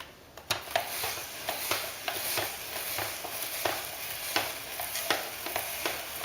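A hand-cranked spiral vegetable slicer turns out raw vegetable noodles with a rhythmic series of crisp cutting crunches and scrapes, repeating steadily and close up, with no one speaking.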